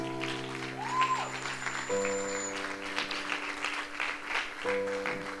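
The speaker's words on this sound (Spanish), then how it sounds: "denle un aplauso para lo que ellos hacen" A church congregation gives soft, distant applause for the sound team while sustained keyboard chords ring over it.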